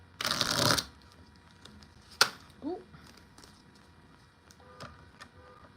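A loud burst of tarot cards being riffled and shuffled, then a sharp tap and a few soft clicks and rustles in a quiet room.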